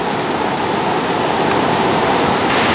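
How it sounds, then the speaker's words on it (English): A line of waterfalls on the Blue River, heard as a loud, steady roar of rushing water with no pauses, close and filling the whole stretch. "Pretty good line of waterfalls there"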